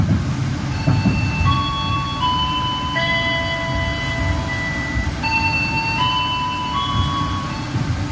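A Bogowonto passenger train arrives at Jatinegara Station. A loud, steady low rumble continues throughout while a melodic electronic chime plays over it.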